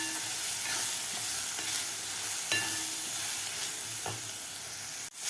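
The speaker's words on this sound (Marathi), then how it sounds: "आता व्यवस्थित आपल्याला हे मिक्स करून व्यवस्थित 1 मिनिटभर आपल्याला हे सुके मसाले शिजवून घ्यायचे आहेत" Dry spices are fried and stirred in a pan with a steady hiss and sizzle, broken by occasional scraping strokes of a spoon and one sharp clatter near the end, all heard close up.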